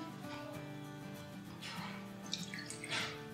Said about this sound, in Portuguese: nós vamos colocar aqui 250 ml de leite